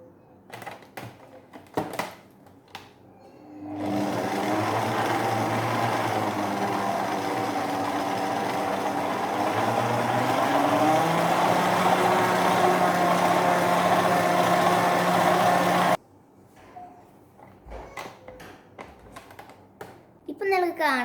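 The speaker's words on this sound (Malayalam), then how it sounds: "നമുക്ക് നന്നായി ഇത് വിപ്പ് ചെയ്തെടുക്കാം." An electric mixer whips cream cheese batter for a chocolate cheesecake. It gives a loud, continuous whirring hum for about twelve seconds, and the pitch shifts slightly as the speed changes. Brief talk and clatter come before and after it.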